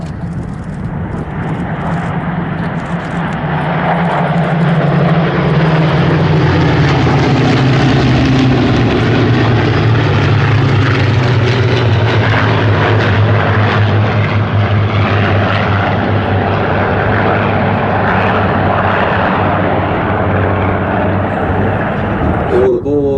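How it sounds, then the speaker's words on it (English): A Mark 5 Spitfire and other vintage propeller aircraft fly in Vic formation at an airshow, their engines making a loud, sustained droning roar overhead that swells and holds steady throughout, with no talk. "Number 4 position, flying EP-120, a Mark 5 Spitfire, is Rolf Muir."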